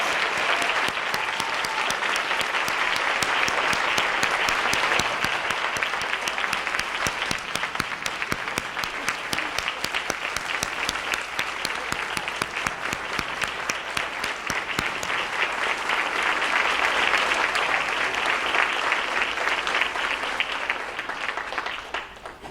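Steady, prolonged applause from the audience at a school district board meeting honoring outstanding teachers, a dense wash of clapping that holds at an even level throughout.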